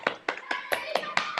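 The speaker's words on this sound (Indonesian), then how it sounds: "tepuk tangan untuk anak-anak kelas 4J" Grade 4 pupils in a classroom clap in a handful of sharp, spaced bursts, a few hands striking unevenly rather than a full sustained round of applause, close and fairly quiet.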